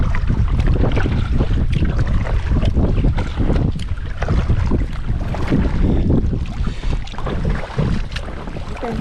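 Choppy water on a windy lake slapping repeatedly against a GoPlus inflatable kayak, irregular splashes and knocks close by with wind noise throughout.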